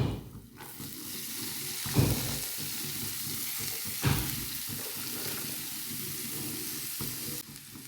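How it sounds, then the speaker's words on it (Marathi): Shredded cabbage stir-fried in a pan with curry leaves, a steady close sizzle broken by a couple of louder scrapes and clatters as the mix is tossed, no voices. "आता आपण यामध्ये आपली कोबी जी आहे ती टाकून घेऊया"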